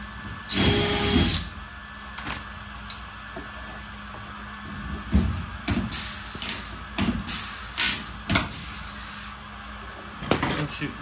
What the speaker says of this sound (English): I said the rivet drill.